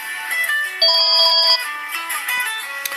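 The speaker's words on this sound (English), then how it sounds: "You'll hear that ring in the background, but also it should trigger this decked phone to ring as well." A landline phone rings loudly and clearly, with bright repeating electronic ring tones triggered by an incoming call to a Nokia mobile, heard alone without talk.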